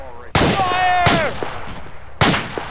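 Three loud, sharp gunshots ring out in a military combat video game, spaced irregularly, each with a short decay and a brief whistling tone after the first, with a faint voice in between.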